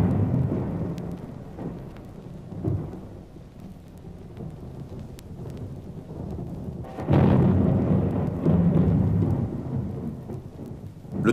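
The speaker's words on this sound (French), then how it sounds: "un orage énorme enveloppa le sommet du Sinaï" Enormous thunderstorm over the summit of Mount Sinai: deep rolling thunder rumbles under steady rain, swelling into a loud, sustained roar in the second half, with no voices.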